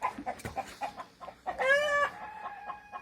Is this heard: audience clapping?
no